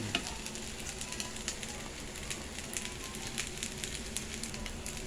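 Sinangag, a Filipino fried rice made from leftover rice with egg and mixed vegetables, fries in a pan. A continuous soft sizzle runs throughout, with faint ticks and scrapes of stirring and no voices.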